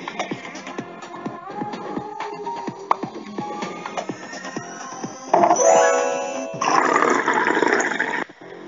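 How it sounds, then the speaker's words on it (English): Water is poured into an empty drinking glass, a brief rising gush of liquid filling the glass, heard up close and loud over a quieter background with no talk. "Take some water and add it to the glass."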